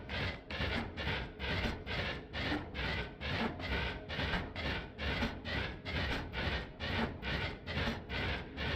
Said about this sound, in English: Even when it runs out of mana, it's still sort of an effective drill.